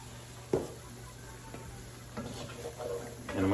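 Migas with mushrooms, pepper and salt fry in a pan, giving a soft ongoing sizzle broken by occasional utensil clicks and stirring scrapes that grow louder toward the end.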